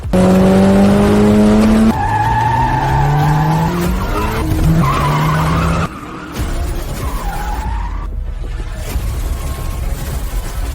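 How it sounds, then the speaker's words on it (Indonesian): A racing car brakes hard, its tires squealing and skidding in long rising and falling shrieks over engine roar, loud and close, continuing for several seconds with no voices. "Kak Luo ngerem di jarak 2 meter."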